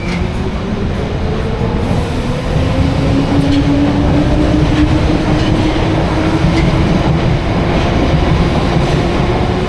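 London Underground Piccadilly line train arriving at a platform during leaf-fall season, a loud rumbling approach with rhythmic wheel clatter and a rising tonal whine that holds steady for about ten seconds, with no voices.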